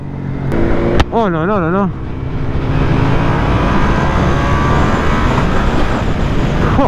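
A motorcycle engine revs hard, rising in wavering bursts and then holding a loud, steady roar close by while a rider exclaims over it.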